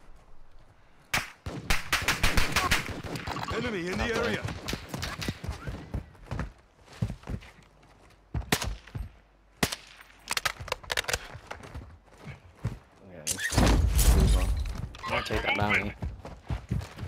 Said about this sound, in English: No, I'm being shot at.